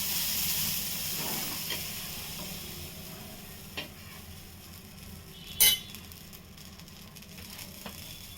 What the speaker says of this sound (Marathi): तवा गरम झाला की नाही ना मी पाणी टाकून बघते बघा असं